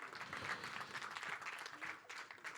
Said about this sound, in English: big round of applause for Mrunal and Shahid Kapoor.